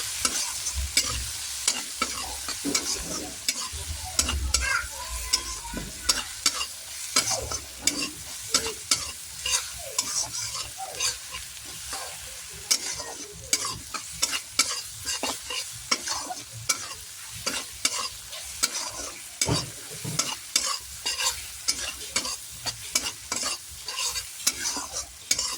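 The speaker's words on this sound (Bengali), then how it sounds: "মশলাটাকে ভালো করে কষিয়ে নেব যতক্ষণ না পর্যন্ত তেল ছাড়তে আরম্ভ করবে।" Chili powder and turmeric masala frying in hot oil for egg tadka, a busy sizzle broken by repeated scraping strokes of a spoon stirring the pan, close and continuous.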